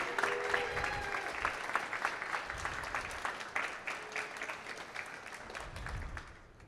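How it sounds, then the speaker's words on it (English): An audience at a startup pitch demo day applauds the judges, a steady wash of many hands clapping throughout, moderately distant, with faint voices underneath. "Please, everybody, a big round of applause to our judges."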